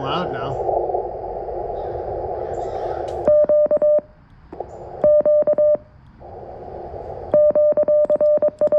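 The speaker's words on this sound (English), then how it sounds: "if I turn that side tone down, that's so loud now" Loud CW Morse side tone from an FX-4CR radio played through an external speaker, several bursts of rapid evenly keyed dits and dahs separated by pauses, with a steady hiss and hum of band noise running underneath.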